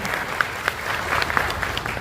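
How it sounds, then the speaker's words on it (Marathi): An audience claps steadily for an actor and director at a retirement ceremony for a municipal education officer in Kalyan-Dombivli. The applause is dense and continuous from start to end, with no talk. "आपण अभिनेता आणि दिग्दर्शक, संवाद लेखक सगळ्यांसाठी टाळ्या वाजवू."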